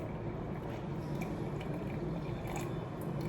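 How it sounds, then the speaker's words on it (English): A small amount of water streams onto ground coffee for cold brew, a soft, steady wet trickle and gurgle heard close up with no pauses. "You need to add 60 grams of water."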